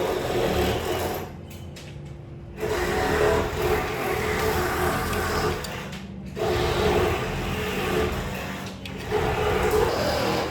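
A polishing machine buffs a car's paint during a rub-and-buff job, giving a steady loud whirring drone that holds for several seconds, drops out briefly twice, then starts again.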